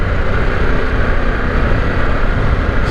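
A 2022 Harley-Davidson Pan America Special motorcycle engine on a test ride, a steady loud broadband roar with rumbling low end and wind noise, continuous and close with no talking.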